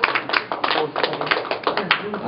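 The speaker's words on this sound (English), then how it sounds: "Okay, you can clap there." Classmates clap in a classroom, a quick, fairly close patter of many hands with uneven bursts running through the whole stretch, with no voices over it.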